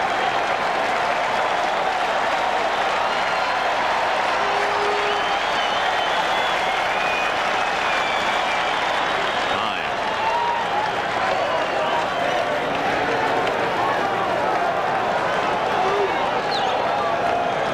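Stadium crowd at a 1986 World Series baseball game roaring and cheering continuously, a dense, steady wall of noise with clapping mixed in, loud and sustained throughout.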